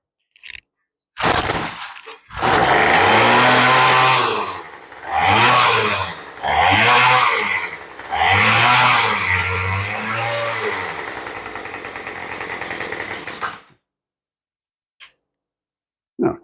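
A tiller engine that had sat unused for two years runs after starting, chugging loudly in pulsing, uneven bursts for about twelve seconds before cutting out, with a brief faint sound afterward.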